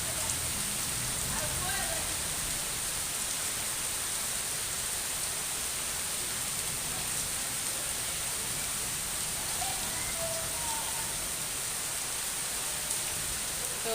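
Steady rain pours during a storm in Dhaka, a dense, even hiss of drops on surfaces that holds without a break throughout.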